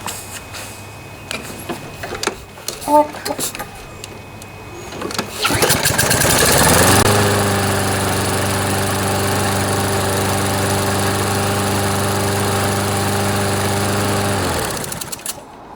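A small Toro lawn mower with a Briggs & Stratton 163cc engine is pulled and sputters to life, then runs at a steady, loud idle before shutting off near the end.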